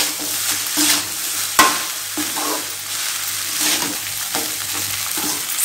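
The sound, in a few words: rice being stirred in a hot pan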